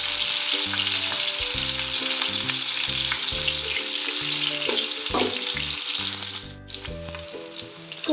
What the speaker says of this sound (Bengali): হালকা হাতে আস্তে আস্তে ফুলকপিগুলোকে ভেজে নিতে হবে